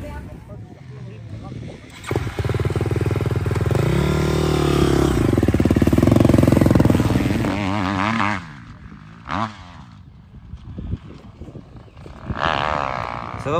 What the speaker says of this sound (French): on va tester un peu la moto et puis faire quelques tests de départ